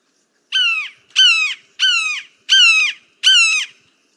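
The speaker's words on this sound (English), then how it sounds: "So that's your red-shouldered hawk call." Five recorded calls of a red-shouldered hawk ring out in an even series, each a loud, clear, descending scream separated by short silences.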